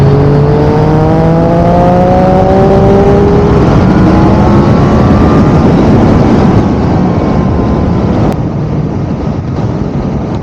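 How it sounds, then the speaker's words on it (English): A Yamaha MT10 motorcycle's engine and airbox roar loudly and steadily while overtaking on the road, with rising and falling engine tones blending into a continuous rushing drone throughout. "the airbox rush when you overtake"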